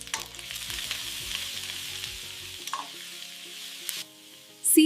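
Cabbage and peas stir-fry over medium heat in a little oil with garlic and cumin, a bright sizzle with quick scraping stirs that fades to near quiet before a final clatter.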